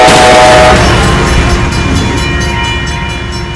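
A bullet train in a video game rumbles loudly at close range with a horn-like tone early on, then a heavy rolling roar with faint rhythmic clacking that slowly fades, with no voices.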